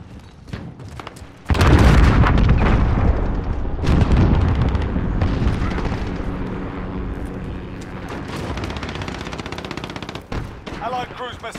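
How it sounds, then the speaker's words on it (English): Heavy explosions and rapid gunfire from an allied cruise missile strike during a Ground War battle at Aniyah Palace in Call of Duty Modern Warfare; a loud, sustained roar erupts suddenly and rumbles on with crackling shots, later fading slightly. "Allied cruise missile away."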